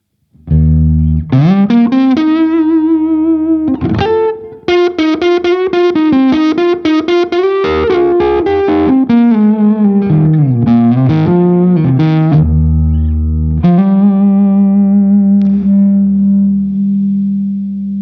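Loud, buzzy fuzz-distorted electric guitar plays a wandering riff of sustained and quickly picked notes, ending on a long ringing note.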